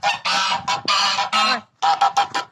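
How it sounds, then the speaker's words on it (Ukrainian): Domestic geese honk loudly and close by in a rapid, harsh series of calls on a village farm, with a short pause before a final burst of honks. "Обратно ці гуси кричать"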